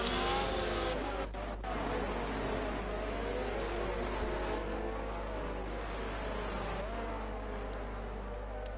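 Race cars in a sim racing league event at the Spielberg circuit in Austria, restarting behind the safety car: a dense, continuous engine roar with layered revving and tonal whine, steady and loud throughout with a brief dip early on.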